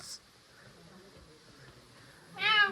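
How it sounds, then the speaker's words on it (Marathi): A single short meow from a cat near the end, after a quiet stretch of faint room noise and distant murmuring, in a village house kitchen. "मांजर मनी मनी आपण पाहू शकता"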